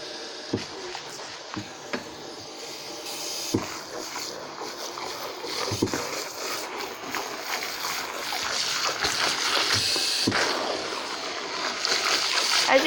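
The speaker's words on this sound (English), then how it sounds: "so I'm giving my dog a bath" Water splashing and sloshing while a puppy is bathed in a flea bath, irregular close splashes and knocks over a running-water hiss that grows louder toward the end.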